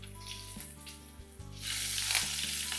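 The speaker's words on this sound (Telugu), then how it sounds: "స్టవ్ ఆన్ చేసి తాలింపులో కాస్త జీలకర్ర, ఎండుమిరపకాయ," Cumin seeds and dried red chillies crackle in hot oil for a tempering, a close sizzle that swells into a louder, brighter hiss partway through, with a few stirring knocks.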